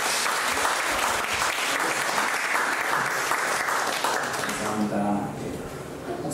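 A church congregation standing to applaud and welcome a visiting pastor during a worship service, dense sustained clapping filling the room before it thins and fades near the end.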